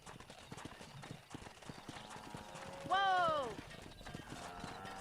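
Horse hooves clip-clop steadily in Red Dead Redemption during a cattle drive, with a loud whinny or shout near the middle and a voice speaking over the gameplay.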